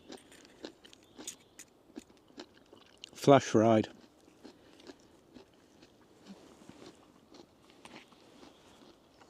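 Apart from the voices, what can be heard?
biting and chewing flash-fried vegetables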